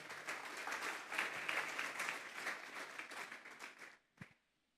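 A church congregation breaks into sustained applause, dense steady clapping for about four seconds that fades out, ending with a single louder thud.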